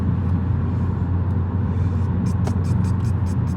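Opel Astra H 1.3 CDTI diesel engine droning at low revs while driving, a steady deep rumble with road noise throughout and a few faint clicks near the end.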